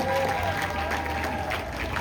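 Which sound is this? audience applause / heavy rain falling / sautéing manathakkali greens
audience applause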